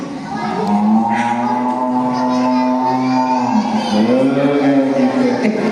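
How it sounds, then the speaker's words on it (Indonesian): A cow moos in two long, loud, drawn-out calls close by, the second starting just after the first fades. "Kalau sapi itu bunyinya gini."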